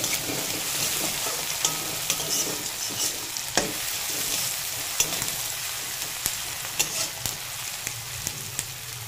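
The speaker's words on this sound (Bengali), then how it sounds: "পেঁয়াজটা ভালো করে ভেজে নেব।" Onions sizzle steadily in a hot pan with oil, a continuous close frying hiss broken by occasional scrapes and clicks of stirring, with no voices.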